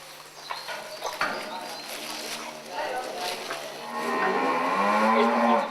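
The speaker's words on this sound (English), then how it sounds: "We picked Simmental cattle because we thought they were reasonably quiet." Simmental cattle on a farm mooing, several drawn-out lows from nearby, the longest and loudest near the end, mixed with shuffling and other farmyard sounds while a person talks over part of it.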